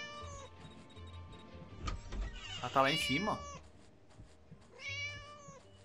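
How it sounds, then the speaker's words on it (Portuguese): Cat meows in the Scary Teacher video game, a few short tonal mews, one in the middle and another near the end, heard under a speaker talking in Portuguese. "Ó, tô ouvindo o bichaninho miando."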